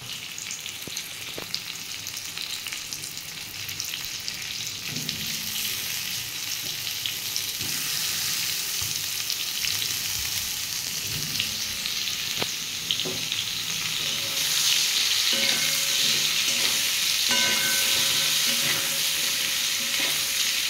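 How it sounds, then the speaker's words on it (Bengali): Slices of ridge gourd frying in hot oil in a pan, a steady close sizzle with occasional stirring scrapes that grows slightly louder partway through, with no voices. "আমি এবার একটু ঝিঙেগুলো একটু ভেজে নেব।"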